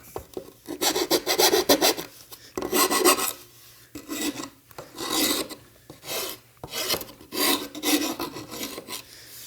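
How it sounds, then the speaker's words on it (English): A coarse file rasping along the edge of an electronics board, loud, close, rhythmic back-and-forth strokes in bursts with short pauses between them, no talking. "So this is a little bit of a coarser file."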